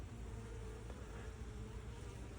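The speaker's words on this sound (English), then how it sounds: "this is a really calm hive, actually." Honeybees around a calm hive make a faint, continuous low buzz that stays steady with no voices over it.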